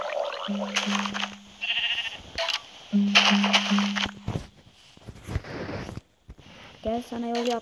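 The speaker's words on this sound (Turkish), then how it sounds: "Koyun da varmış burada." Sheep bleating in the Minecraft video game, a few short blocky calls heard alongside game footstep and interface sounds, with a person talking in between.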